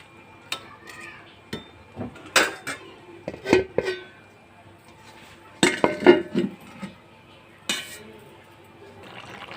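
Kitchen clatter of a metal cooking pot being covered with its lid while pumpkin-leaf curry cooks: several sharp clinks and knocks spread irregularly over the stretch, with quiet gaps between them.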